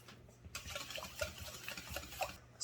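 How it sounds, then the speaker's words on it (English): A whisk or spoon stirs a bowl of wet batter ingredients (eggs, vanilla, heavy cream and rose water) with soft, uneven scraping and sloshing strokes, fairly quiet and close, with no voices. "and mix."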